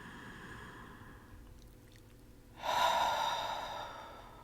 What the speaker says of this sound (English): take a nice deep breath in. Breathe in again.